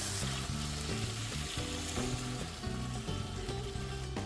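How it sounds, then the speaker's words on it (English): Peeled prawns, about 150 grams, fry in olive oil in a pan. A soft, steady sizzle and crackle continues alone, quiet and close. "I'm going to cook 150 grams of peeled prawns in olive oil for 2 minutes"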